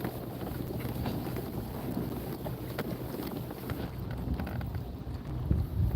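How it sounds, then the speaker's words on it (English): Strong wind buffeting the microphone with a continuous low rumble and gusty roar, close and loud, with no voices. "It's windy."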